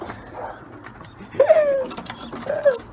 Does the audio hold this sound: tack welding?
no